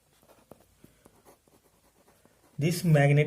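A pen or marker scratches out physics notes on a board during a lecture, soft irregular strokes and taps, followed near the end by a teacher speaking loudly.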